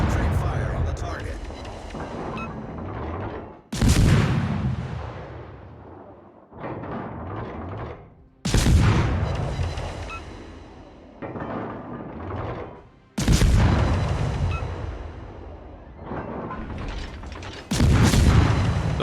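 Naval video game ship guns firing at an enemy cruiser, heard as four loud, booming salvos spaced several seconds apart, each decaying into a rumbling tail, with a voice speaking between them.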